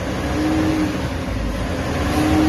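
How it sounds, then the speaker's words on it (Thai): A Nissan Navara NP300 pickup engine, faulted with code P0113 and white-black smoke, revs up close with a steady low rumble and a thin whine returning near the end, no speech over it. "เดี๋ยวผมจะลองเร่งเครื่องยนต์ดูนะครับ"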